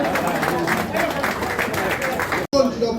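Audience clapping at a book launch in Lagos, a dense steady patter of many hands close by that fills the moment, briefly cut off near the end before resuming.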